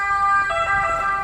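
An ambulance siren sounds on a city street in Bolzano, Italy: a loud, steady wailing tone that rises and holds through the whole short stretch, with no voices over it.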